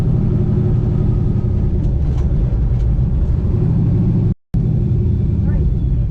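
Steady loud engine rumble from a turbo LS-powered Nova drag racing on ice at an outdoor meet, a continuous low roar filling the whole stretch with one brief dropout.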